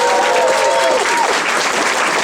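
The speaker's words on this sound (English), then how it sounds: "so a big round of applause for them." A crowd gives loud, steady applause to the event hosts at an anime convention closing ceremony, dense clapping with a brief whistle or cheer at the start.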